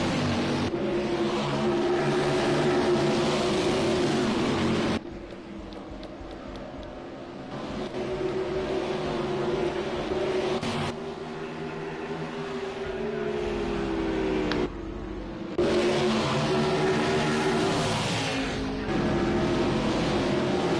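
Race cars on a track during a race, a continuous roar of engines that swells and fades as cars pass, with abrupt cuts in the sound and no talk.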